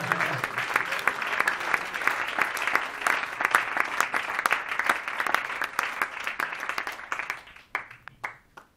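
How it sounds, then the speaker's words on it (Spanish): A church congregation at an evangelistic camp applauds, many hands clapping steadily for several seconds before thinning into scattered claps at the end, with faint voices underneath. "Denle un aplauso para la gloria del Señor"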